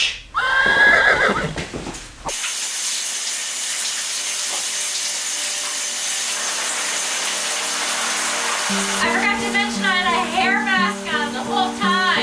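A horse whinnies loudly near the start, followed by a long, steady, hissing ambience, then a burst of busy higher-pitched sounds toward the end; no clear rhythmic hoofbeats stand out.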